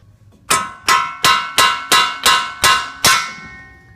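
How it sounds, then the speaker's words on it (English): Eight sharp metallic hammer blows pound an old inner tie rod out on an Infiniti G35 or Nissan 350Z, at a steady, quick rhythm, each ringing briefly before the next; loud and close, with no talking. "just pound directly down on the old tie rod. Just get a hammer and knock it down and through"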